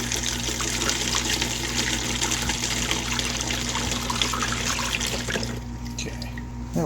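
Sweet tea sugar solution pouring into a gallon jug, a steady liquid stream and trickle running continuously, then thinning and tapering near the end.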